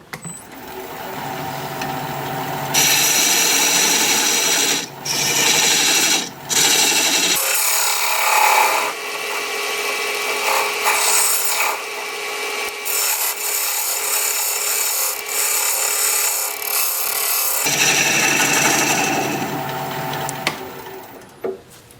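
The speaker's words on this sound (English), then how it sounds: "I'll use my recess tool, put a dovetail on the side here." A recess tool cuts a dovetail into an end-grain mesquite bowl spinning on a wood lathe, a loud continuous scraping hiss with the motor's hum beneath, stopping and restarting in several passes, close and without talk.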